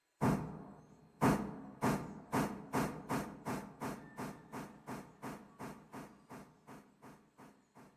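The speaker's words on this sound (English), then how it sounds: "I hear the train." Steam train in the video game Railroader chuffs in a long series of sharp, hissing steam bursts, starting strong and then fading gradually as the regular rhythm continues, with no voices.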